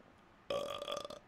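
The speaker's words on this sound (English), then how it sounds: "You burp directly into his fucking face." A single loud, throaty burp that starts abruptly and rumbles on for under a second, heard alone during a gaming live stream.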